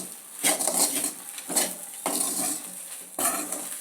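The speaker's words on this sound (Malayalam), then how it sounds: "അപ്പോൾ ഇനി വാളംപുളിയും കൂടി ഇട്ട് നമുക്ക് ഇളക്കാം" Fried coconut, onion and chili with tamarind stirred in a pan, a spoon scraping and clinking against the metal in several bursts, close and fairly loud, with no talking.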